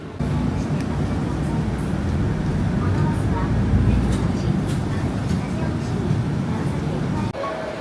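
Steady rumbling of a train at a station platform in Nagasaki, Japan, a continuous low roar with a murmur of voices in the background.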